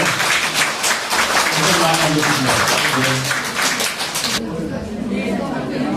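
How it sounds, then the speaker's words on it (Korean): An audience claps at a Korean essay recitation contest and year-end party, dense steady applause that stops abruptly partway through, with a voice speaking over it. "박수 한번 주십시오"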